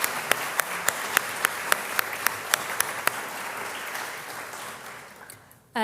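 Audience applause for board members at a lecture: a sharp, regular clapping rhythm stands out over dense crowd clapping, then everything fades toward quiet before a sudden loud burst at the end.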